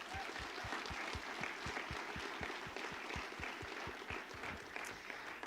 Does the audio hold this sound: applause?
yes